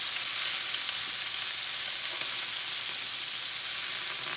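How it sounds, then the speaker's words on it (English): Scallops pan-searing in hot oil give a steady, loud, close sizzle with a dense spitting crackle that holds unbroken throughout, and no one speaks. "Now, scallops don't take long to cook."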